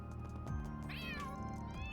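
A cat in the video game Trails Through Daybreak gives a short, close meow with a rising then falling pitch, heard over a soft, steady musical background.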